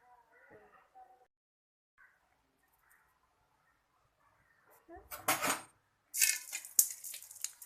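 Noodles frying in oil in a pot in a village kitchen, with mustard seeds, curry leaves, chilli, onion and tomato; quiet at first, then loud bursts of sizzling and clattering near the end, with faint voices early on.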